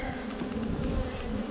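A dense, steady drone of many honeybees buzzing close by at an open hive, continuous and fairly loud throughout.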